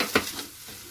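Onions and green chillies sautéing in a pan for an anchovy stir-fry, a brief close sizzle with a quick stir stroke.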